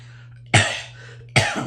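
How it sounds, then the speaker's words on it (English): Two sharp coughs, close and loud, spaced about a second apart over a faint steady hum. "sorry for coughing too"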